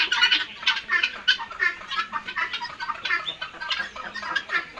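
Guinea fowl call in a poultry-keeping setting, a rapid, harsh stream of repeated squawking cries from several birds, loud and continuous with no talk.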